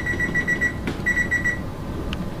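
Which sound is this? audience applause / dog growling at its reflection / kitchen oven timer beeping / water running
kitchen oven timer beeping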